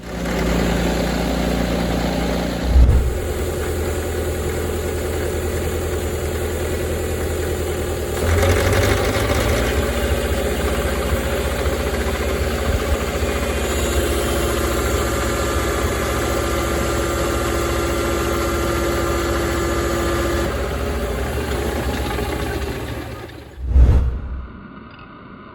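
Vintage tractor with a gasoline starting engine, rated around 43 drawbar horsepower and weighing about 5 tons, idles steadily for a long stretch, a low continuous throb with a couple of sharp clunks and shifts in tone.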